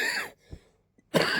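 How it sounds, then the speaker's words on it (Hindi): Coughing from a woman who has had a cough for two days: a couple of short, harsh bursts separated by quiet gaps, close to the microphone. "मुझे बहुत ज़्यादा 2 दिन से खांसी आ रही"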